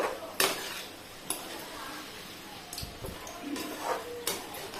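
Vankaya fry, an eggplant dish, stirred in a pan: a few sharp metallic clinks and scrapes of the utensil against the pan over a low, faint cooking hiss.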